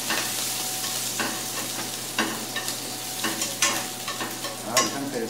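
Onions sauté in a pan while being stirred for a cream sauce pasta, a steady sizzle with scraping stir strokes recurring every second or so, close and fairly loud.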